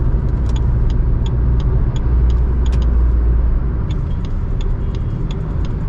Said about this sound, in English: if you just floor the throttle, it gets to 120 in no time